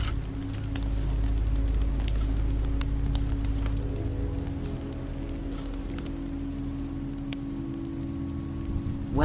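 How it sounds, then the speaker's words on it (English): Rain falling in The Walking Dead Season 2 video game, a steady soft patter with a low constant rumble underneath, continuous and even throughout, with no voices. "This rain will turn to sleet, then ice, then snow."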